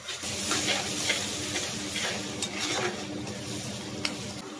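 Onions fry and sizzle in a pan for beef liver curry, a close steady crackle with hissing steam and the scrape and clink of a utensil stirring, no speech.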